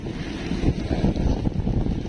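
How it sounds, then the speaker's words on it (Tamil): Steady, heavy cyclone wind with heavy rain in Chennai roars with gusty buffeting against the microphone, a broad continuous rush without pause. "ஹெவியாக மழை பெய்யுது ஹெவியாக காற்றடிக்குது"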